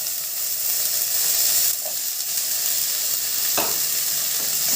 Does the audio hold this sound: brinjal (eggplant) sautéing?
yes